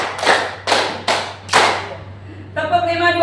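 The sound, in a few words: participants clapping hands in counted rhythm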